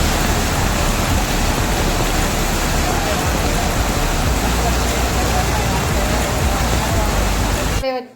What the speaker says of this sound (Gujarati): વરસાદ વરસે છે